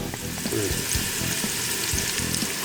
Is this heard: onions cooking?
yes